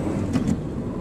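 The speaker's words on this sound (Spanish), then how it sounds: "estamos en el coche" Steady low rumble of a car driving on a mountain route, heard from inside the cabin, continuous and even with a couple of brief faint higher swishes, no talking.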